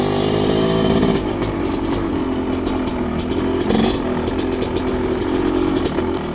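A 2017 MX250 dirt bike engine revs on an autumn trail ride in New England, a loud close buzzing roar that surges and dips in pitch over several seconds, with no talk.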